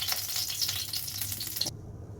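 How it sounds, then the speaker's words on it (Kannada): Whole spices for a tempering crackle and sizzle in hot oil in a pan, a steady close frying hiss with small pops that cuts off abruptly. "ಇವಾಗ ಇದಕ್ಕೆ ಒಗ್ಗರಣೆ ಹಾಕೊಳ್ಳುವ"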